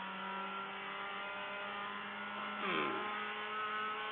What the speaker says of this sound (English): And again, we're going to go full throttle.